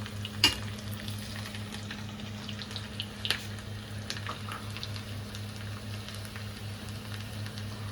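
Garlic sizzles in a hot pan with onions for a dal dish, a steady soft frying hiss broken by a few sharp clinks of a utensil, with no voices.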